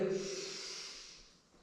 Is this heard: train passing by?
no